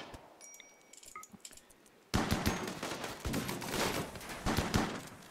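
Rapid automatic fire erupts during a turret fight in the colony game Rimworld: after a quiet start with faint clinks, dense, loud bursts of shots start abruptly and rattle on continuously to the end.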